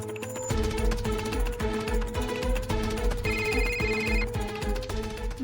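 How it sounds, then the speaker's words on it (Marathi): Mobile phone ringtone playing a repeating melodic tune with a beat, fairly loud and continuous, with no talking over it. "मम्माचा फोन येतोय."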